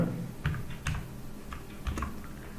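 Close, steady typing on a computer keyboard as table data is entered for an HTML table, a run of separate key clicks with a few louder strokes, with no voice over it.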